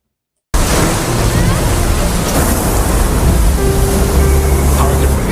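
Roaring, wash-like noise of a storm at sea, heavy surf and wind filling everything loudly and continuously after a sudden start.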